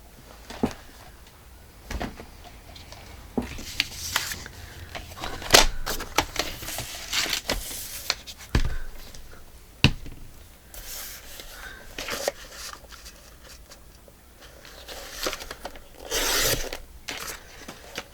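Scissors cut a small piece from a large paper sheet on a 12 x 24 inch one-sheet board, with scattered crisp snips and rustling paper handling at close range, some louder clicks in between.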